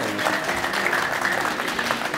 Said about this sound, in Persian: تشویقشان کنیم